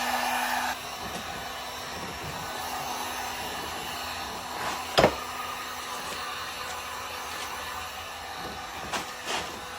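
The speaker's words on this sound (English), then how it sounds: "I'm going to go ahead and use my heat gun to heat this" A heat gun warming a plastic M-style front lip on a BMW E92/E93 3 Series, giving a steady blowing hiss throughout, punctuated by a couple of brief sharp knocks and taps, no talking.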